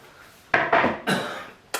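Cubed ham chunks dropped into a pot of stock, giving three or four distinct knocks and clatters against the pot in quick succession, close and fairly loud, with no talking.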